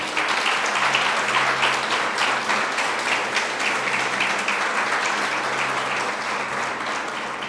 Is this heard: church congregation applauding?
yes